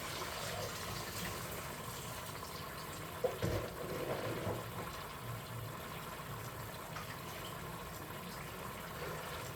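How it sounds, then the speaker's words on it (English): Water poured out of a cooking pot while preparing Kenyan pork with potatoes, a steady gushing splash running for several seconds with a brief clatter partway through, close by and alone. "So I'll just empty this water out."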